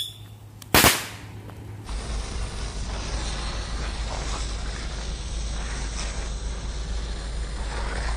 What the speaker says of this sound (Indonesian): Sekarang kita cobain petasan tikus. Kita cobain 3 buah.